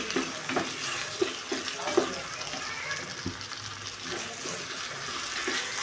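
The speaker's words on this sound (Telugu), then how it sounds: "ఒక కప్పు టమాటాస్ని యాడ్ చేసుకోవాలి యాడ్ చేసుకుని బాగా కలుపుకోవాలి" Tomatoes and onions frying in a pan for dhaba-style paneer curry, a quiet steady sizzle broken by soft spatula scrapes and taps at an irregular pace, close by.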